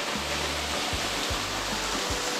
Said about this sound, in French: La petite cascade de Molly Spring.